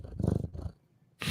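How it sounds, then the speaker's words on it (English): A cat purrs right into a microphone in two close, rumbling bursts, followed by a brief pause and then a louder rustle. "The cat purring"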